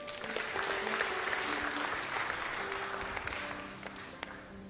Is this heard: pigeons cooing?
no